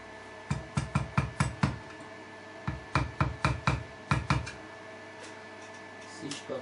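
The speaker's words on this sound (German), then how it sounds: "Ein wenig nach außen klopfen," A screwdriver taps a stainless steel ram guard to bend it outward. It gives crisp metallic knocks close by, in quick bursts of four to six strikes separated by short pauses.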